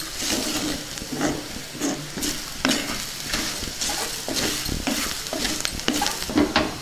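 Elephant foot yam frying with salt and garam masala as it is stirred in a pan, a continuous close sizzle broken by repeated scraping strokes of a spoon against the metal.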